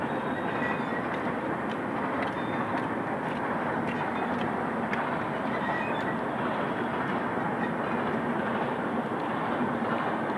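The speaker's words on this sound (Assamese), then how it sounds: "ওপৰৰ ৰেলগাড়ী আছে" A train rumbles steadily and loudly across an overhead bridge near the Brahmaputra River in Guwahati, with continuous rolling noise and faint rhythmic clacking, close and unbroken throughout.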